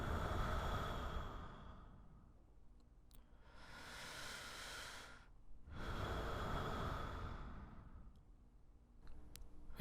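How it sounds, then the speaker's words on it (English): Slow, close breathing on a cold night: long airy inhales and exhales rising and falling in a calm rhythm, in otherwise quiet surroundings. "just the sound of my own breathing."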